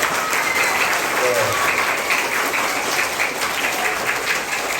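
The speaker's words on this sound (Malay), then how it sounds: "semangat sikit beri tepukan gemuruh dengan semua bos-bos depan." Thunderous applause from students at a school community event with government agencies, opening a petanque court in Malaysia: dense, continuous clapping from a large crowd, loud and steady throughout, with some voices mixed in.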